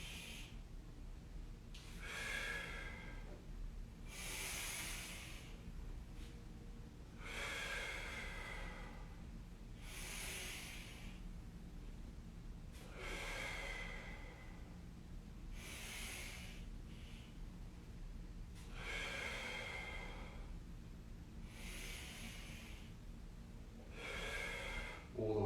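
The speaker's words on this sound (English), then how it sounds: "So deep breath in." Slow, deep breaths drawn in and out during a mobility stretch for upper and lower back rotation, about a dozen breathy bursts at a steady rhythm over a low background hum, close to the mic.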